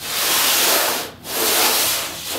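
A hand plane rubs across putty in cross motions, two long, loud, steady scraping strokes with a brief pause between them.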